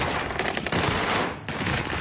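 Rapid, continuous automatic gunfire from a shooter video game tournament match, loud and dense bursts with only a brief break, alone without talk.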